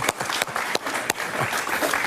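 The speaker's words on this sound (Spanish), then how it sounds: "un aplauso para José Luis" Studio audience on a Spanish-language talk show applauds for guest José Luis Espert, a short burst of dense clapping with a few sharper claps standing out.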